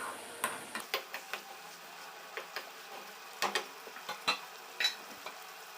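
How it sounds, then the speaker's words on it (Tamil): Turkey berries sautéing in oil in a pan on low heat, a faint soft sizzle broken by scattered sharp clicks and taps of stirring, quiet and close. "நல்லா எண்ணெயிலே நல்லா அந்த சுண்டைக்காய் வதங்கிட்டு இருக்குது"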